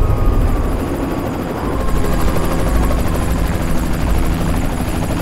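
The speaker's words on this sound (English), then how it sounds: "Now the helicopter finally made it." A helicopter in the video game Dogchild, flying over snow, gives a loud continuous rotor drone with a fast, even chop, heard alone without talk.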